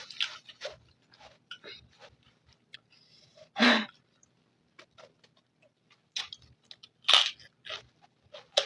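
Crunchy chewing and biting while eating a home-cooked meal with meat, heard as sparse close bursts with two louder crunches, no talk.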